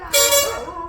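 A car horn sounds one long, loud, blaring honk that starts abruptly and holds steady before slowly easing off, with nothing else in the background.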